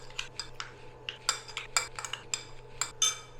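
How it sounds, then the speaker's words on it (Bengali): A spoon clinks and scrapes in a bowl as a chicken marinade of vinegar, soy sauce, salt and lemon is mixed, making a quick string of crisp, close taps with no talk. "ভালো করে মিশিয়ে নেবো"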